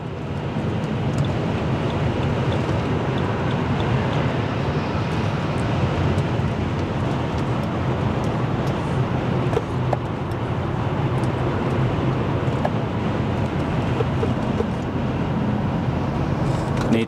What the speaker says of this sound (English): we're going into corners at nearly 80 miles an hour in a BMW 7 Series